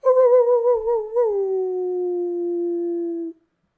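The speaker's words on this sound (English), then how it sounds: "If I do that, actually, the little one just popped up. He'll howl." A dog gives one long, close howl that wavers, then slides lower and holds steady before stopping abruptly, with no other sound around it.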